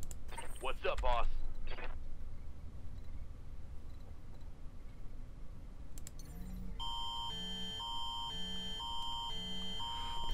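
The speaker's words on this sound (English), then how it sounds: "Sorry guys, that's my phone going off." Phone emergency alert tone for an Amber Alert, a loud repeating electronic beeping pattern of regular pulses that starts partway through, following earlier talk and game sounds.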